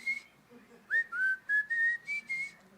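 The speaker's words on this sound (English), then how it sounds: "whistle with me." A church congregation whistles a bright tune together during a Sunday service, several sustained whistled phrases in a short rhythmic run, fairly loud and clear above a quiet room.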